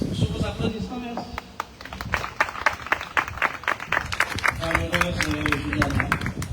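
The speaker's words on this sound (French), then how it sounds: "Sur vos applaudissements, merci." Audience applause at a commemorative event honouring Kalinago heroes, a steady roll of clapping from a crowd with a voice speaking over it.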